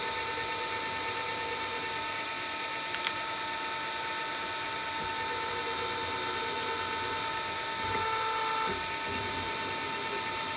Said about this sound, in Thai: เจาะลงไปเรื่อยๆนะครับ เวลา ที่งานใกล้ทะลุให้เราเบาแรงกดของ ของดอกสว่านนะครับ